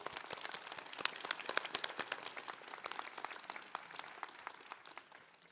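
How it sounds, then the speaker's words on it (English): Audience applause for facilitators fills a high school commencement ceremony, a dense steady clatter of many hands clapping close and fairly loud throughout, fading slightly toward the end. "give a round of applause to the facilitators that have supported us throughout our lives"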